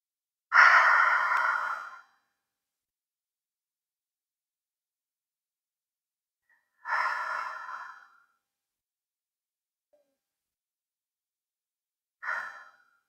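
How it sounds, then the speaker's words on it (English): Three slow, deep belly breaths during a children's yoga relaxation, each a long airy exhale standing alone and close, separated by long stretches of silence, the last one shorter. "So let's take three breaths into our belly."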